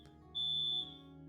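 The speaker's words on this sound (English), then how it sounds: "Beeping, sorry." A single electronic alarm beep sounds in a room, a steady high-pitched tone lasting about half a second, loud against a quiet low hum.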